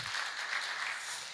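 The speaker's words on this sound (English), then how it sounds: "Give them a big round of applause." A conference audience at SteemFest 4 gives a short, fairly faint burst of applause, with an even wash of clapping that fades slightly at the end.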